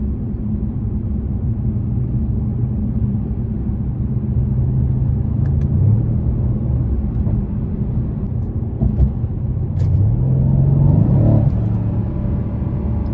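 A 2018 Mercedes-Benz C63 AMG engine revs with a deep, steady rumble and a few rising swells as it shifts, loud and close with no talk over it.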